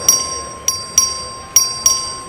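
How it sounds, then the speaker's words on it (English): Five sharp metallic strikes of a voting bell in a legislative chamber, evenly spaced and ringing briefly, in a quiet room with no talking. "Clerk ring the bell."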